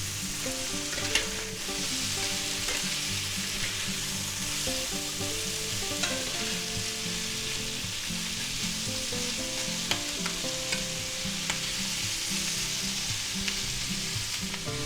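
Vegetables for shrimp chow mein sizzle hard in a hot pan, a dense continuous crackle with steady stirring and tossing throughout, close and loud, with no talking.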